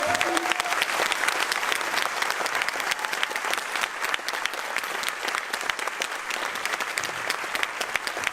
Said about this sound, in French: Je voudrais qu'on les applaudisse parce qu'ils font un travail remarquable.